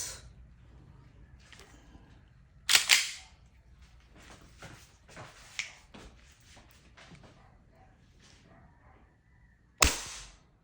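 Two sharp, loud shots from a WE Hi-Capa 6.0 gas blowback airsoft pistol with a snappy crack, separated by several seconds of quiet handling clicks and shuffling.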